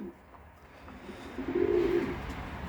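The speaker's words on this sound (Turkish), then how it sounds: "5 tane daha yavru posta güvercimiz büyüdü" Young racing pigeons give a faint, short, low coo in a quiet room with soft background murmur.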